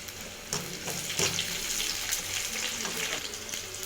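Curry leaves crackle and sizzle in hot oil with several sharp spitting bursts over a steady frying hiss, close and fairly loud.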